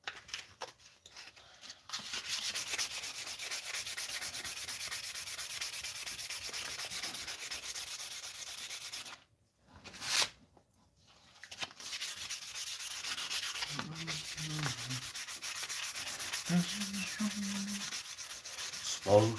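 A steel blade being hand-sanded with 320 grit sandpaper in a bladesmith's shop, a steady close scratchy rubbing broken by a brief pause midway, with a few faint tones near the end.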